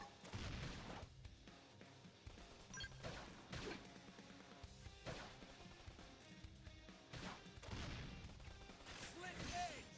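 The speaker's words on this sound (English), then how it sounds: "Topple 'em with some gunfire." Gunfire rings out during combat in Xenoblade Chronicles X: Definitive Edition: repeated heavy bursts and crashing impacts that come in loud waves, mixed with other battle effects and game sounds.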